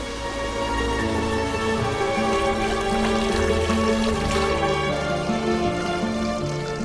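Water flows through the gardens of the Alhambra as a continuous gentle trickle and splash, mixed with a steady low hum of the surroundings and no talking.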